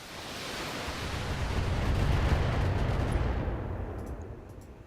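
A sustained burst of heavy weapon fire in the mech combat game MechWarrior, a dense roaring rumble that swells and holds loud before tapering off, with no talk over it.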